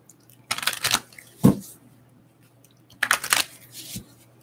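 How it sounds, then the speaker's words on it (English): A deck of playing cards riffle shuffled close by: two quick rattling bursts of cards interleaving, with a soft tap of the deck between them, in a quiet room. "You ruffle shuffle these."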